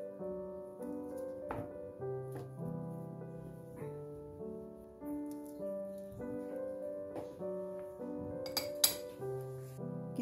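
Two peeled bananas are mashed by hand with cutlery in a bowl, giving light clinks and taps between sustained tones that suggest background music.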